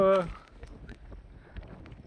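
Strong wind buffeting the microphone on a cloudy, rainy mountain trek, a steady low rumble with gusty swells, under a short burst of voices at the start.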